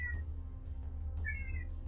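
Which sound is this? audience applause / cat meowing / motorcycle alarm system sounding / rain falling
cat meowing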